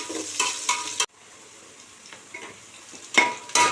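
Onions and green chilies sautéing until brown for mushroom biryani: loud bursts of sizzling and stirring clatter, then a quieter simmering hiss with occasional small clinks before the sizzle flares again.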